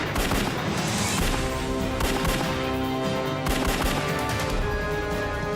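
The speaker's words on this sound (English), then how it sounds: "Shots fired, shots fired." Police shootout scene with continuous rapid gunfire, dense overlapping shots and bursts forming a loud, sustained barrage with no pauses.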